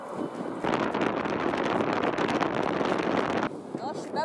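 Strong gusty wind roars into the microphone on a winter day in Belgium, surging loudly for about three seconds before dropping back, with a voice speaking briefly around it.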